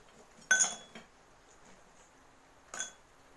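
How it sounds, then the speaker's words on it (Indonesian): Ice cubes are dropped into a glass during a primary-school science demonstration. There are two sharp, close clinks a couple of seconds apart in an otherwise quiet room, and the first one rattles briefly. "Es batu ini merupakan benda padat. Nah, kita masukkan ke dalam gelas."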